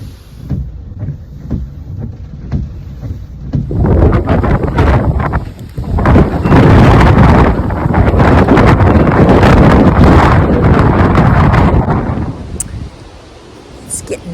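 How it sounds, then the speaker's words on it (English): Strong windstorm gusts roar and buffet the microphone outdoors in a garden, swelling loudly for several seconds before easing, with rustling in the background. "Nice and windy out here."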